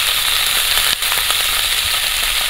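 Malabar spinach stems, potato and eggplant frying in a pan, giving a loud, steady, dense sizzle with crackling throughout, brief dip near the middle, no talking.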